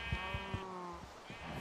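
Sheep in a blocky survival video game bleat three times in quick succession near the start, then twice more after a brief pause, close and fairly loud against faint background noise.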